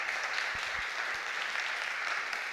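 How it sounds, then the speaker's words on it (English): Audience at an SME digital growth summit giving a round of applause after a speaker's conversation, continuous clapping with a few louder individual claps standing out near the start. "Let's give Mbali a big round of applause."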